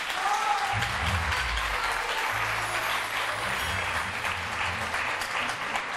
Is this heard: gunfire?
no